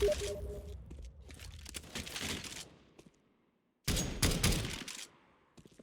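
Crackling bursts of gunfire in a shooting video game, two close rapid volleys split by a short silent gap, fairly quiet overall.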